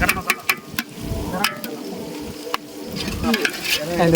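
Garam masala stirred in a frying pan, with repeated scraping strokes of a spoon over a steady sizzle, close and fairly loud, while people talk.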